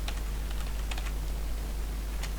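Steady typing of code on a computer keyboard, quick light key clicks in an irregular run over a constant low electrical hum, with no voice.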